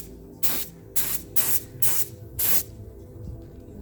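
Five short bursts of spray paint hiss in a steady rhythm as a primer coat goes onto an abandoned Alfa Romeo Mito Cloverleaf, each blast close and crisp with quiet pauses between.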